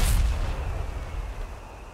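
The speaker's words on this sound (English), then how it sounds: "Now we're about to see Granatwerfer rounds come in on the M1 mortar back here." Granatwerfer mortar rounds landing on an M1 mortar position in Company of Heroes 3, a heavy booming impact at the start followed by a rumbling, fading low roar, with no talk.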